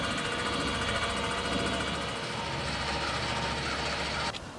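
A travel trailer's electric power tongue jack motor retracts with a steady, loud mechanical whine and buzzing drone, running continuously before cutting off abruptly near the end.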